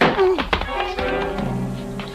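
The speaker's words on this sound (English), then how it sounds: "He gave the door a quick shove right into my face." A radio-drama sound effect of a door shoved into someone's face: a sharp, close wooden thunk followed by a brief scuffling rattle, with a voice grunting in reaction.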